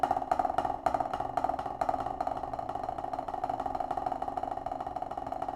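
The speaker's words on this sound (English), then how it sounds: "And there we have our beautiful buzz roll." A snare drum buzz roll with alternating hands, a dense sustained rattle that starts with a few distinct strokes and then blurs into a continuous close roll, with no talking.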